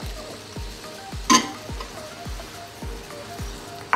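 Cashews and dry fruits hit hot ghee in a pan of suji halwa, giving a soft continuous sizzle. A spoon scrapes and stirs in a steady rhythm, and there is one brighter clink of utensil on pan.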